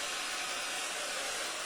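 A hair dryer blows on a child's curly hair, a loud, steady, even rushing whoosh that runs without a break, with no voices.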